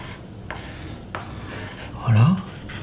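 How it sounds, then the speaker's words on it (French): A pencil drawn across a sheet of paper laid over spread ink, for a monotype print, gives faint scratchy strokes: a couple of brief scrapes, then a slightly louder rub, over quiet room noise. "Si je dessine avec le crayon,"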